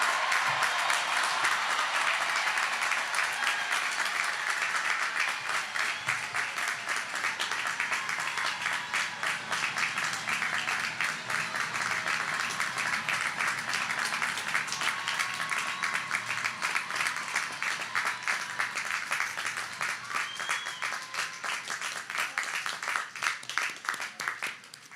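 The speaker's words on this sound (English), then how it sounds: "Let's give a big round of applause to the entire class of" Long, sustained applause from a large audience at North Creek High School's Class of 2022 graduation ceremony, a dense wash of clapping that holds steady for about twenty-five seconds before thinning slightly.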